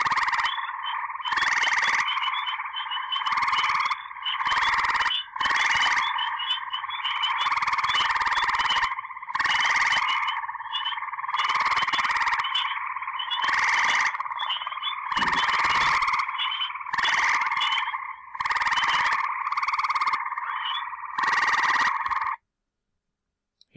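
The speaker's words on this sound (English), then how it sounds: "You'll hear peepers, a leopard frog, and an occasional green frog in this recording." Spring peepers, a leopard frog and an occasional green frog call together at night, a loud, dense chorus of shrill, rhythmic pulsing trills that keeps repeating in bursts before cutting to silence at the end.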